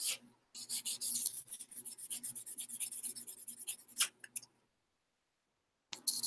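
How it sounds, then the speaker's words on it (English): Short, rhythmic rasping strokes come from sanding a PG Exia Gundam model kit part, close and fairly quiet, in a steady run that stops abruptly, followed by silence and a few more strokes at the end. "I don't know why the hell I'm sanding this so much"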